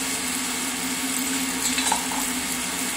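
Long grain white rice is stirred through hot fat in a pan for a mushroom pilaf, giving a loud, continuous sizzle with faint stirring scrapes near the middle.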